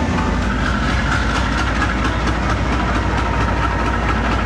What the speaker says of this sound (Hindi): 11 अप हज़ारा एक्सप्रेस रवाना होते हुए कराची से हवेलियाँ के लिए चलने वाली वाहिद ट्रेन है ये